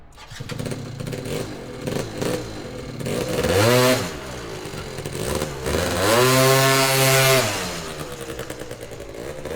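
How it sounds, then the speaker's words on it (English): A Yamaha BW's 125 scooter fitted with an aggressively set Malossi Delta clutch revs hard through two strong pulls, engine pitch rising loudly and close over a steady idle, with no voices. "a couple of pulls to feel how hard the engagement of that clutch is"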